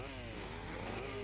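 A chainsaw cuts into a car in the video game GTA Vice City, giving off a steady, buzzing engine drone that stays fairly quiet and unbroken throughout.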